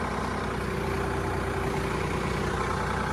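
A farm tractor's engine idles steadily, a close, loud, even low rumble with a constant droning hum and no talk over it.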